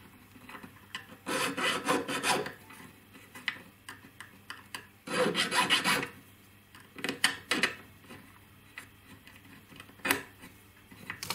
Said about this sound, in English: Need to file a little bit more into the claws